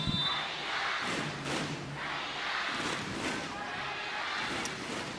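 Volleyball arena crowd at a Japan versus Kazakhstan match, a steady broad roar of cheering voices filling the hall for the whole stretch, loud and sustained with slight swells.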